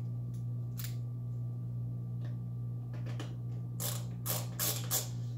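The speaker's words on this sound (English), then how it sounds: "now that these are in the right position, I can go ahead and screw these in" Screws being driven into a OneWheel Pint float plate, with a few close ratcheting clicks growing denser and louder toward the end over a steady low hum.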